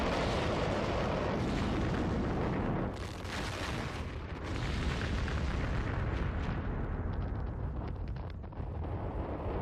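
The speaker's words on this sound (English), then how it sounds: "A series of massive explosions engulf the neighborhoods within a mile radius of the factory." A chain of massive explosions at a factory storage compound, heard as a loud, continuous roaring rumble of blasts and crackling bursts. It carries on for the whole stretch with a brief dip partway through, and nobody talks.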